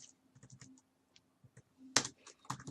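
Computer keyboard typed on while entering Java code for an inventory program, a quiet run of scattered key clicks with brief pauses and a louder burst of keystrokes near the end.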